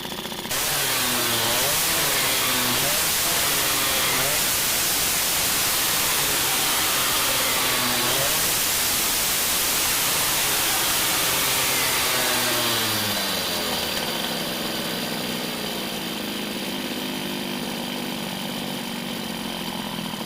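A Peugeot 103 SPX-R moped engine idles high, a buzzy two-stroke drone with a wavering pitch that settles into a steadier, slightly lower hum near the end; loud, close and alone.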